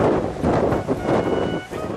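Steady wind at Cape Horn roars across the microphone in broad, gusty buffets, loud and continuous with brief lulls throughout.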